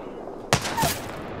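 A short burst of gunfire in the video game Apex Legends, a sharp loud crack followed by a second quick report, close and alone with no talk.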